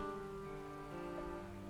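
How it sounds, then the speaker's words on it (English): Steady rain from a thunderstorm falls over Paris in the video game Gibbous, a soft continuous patter under a faint tonal music drone, with no talk. "Looks just as dreary as any other town in a thunderstorm."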